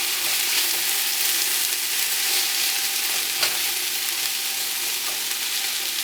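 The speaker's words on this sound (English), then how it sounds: "I'm going to go ahead and add the mushrooms. And those are going to suck up a lot of the fluid if there's any in there, so I'm just going to let those cook" Mushrooms sauté in a pan of spaghetti meat sauce, giving a steady, close, dense sizzle and hiss that stays even throughout, with an occasional faint stir.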